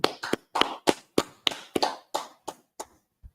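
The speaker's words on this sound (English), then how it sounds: "Let's clap it up." Roughly eleven sharp hand claps from a small group at a religious class, each a crisp separate crack in a loose, slowing rhythm, close and fairly loud, ending in one faint last clap.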